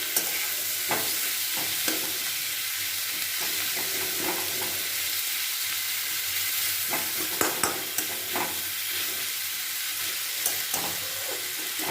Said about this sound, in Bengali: ভেজে একটু লালচে মতো করে নেবো পেঁয়াজটাকে